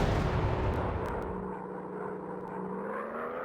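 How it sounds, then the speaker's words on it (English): Rockets launching from a warplane in the WW2 dogfight game Warplanes: WW2 Dog Fight, a loud burst of firing in the first second and a half, then a falling whine that fades into a quieter engine drone. "Firing rockets."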